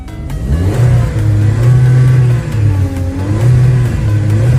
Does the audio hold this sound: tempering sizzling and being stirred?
no